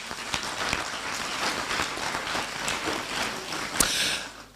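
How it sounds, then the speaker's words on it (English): A live audience applauds a Kasa dance troupe from Nabdam in Ghana's Upper East region, giving steady, dense clapping that runs throughout, moderately loud with a few sharper claps standing out near the end. "I was expecting a bigger round of applause"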